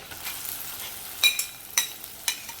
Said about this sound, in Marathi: कांदा थोडा हलकासा मऊ करून घेते